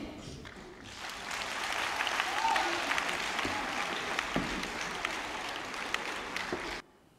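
Sustained applause from an audience after an inter-school stage performance, a dense steady patter of many hands lasting several seconds at moderate distance before cutting off abruptly.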